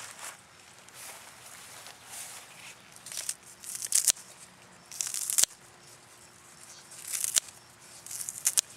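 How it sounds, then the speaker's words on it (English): Scissors snip through fresh turnip green leaves being trimmed for canning, a series of crisp, irregular close cuts with leafy rustling between them, growing busier toward the end, with no talk. "We use scissors. It's a lot faster. So we cut all our leaves."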